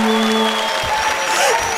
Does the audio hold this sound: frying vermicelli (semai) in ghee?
no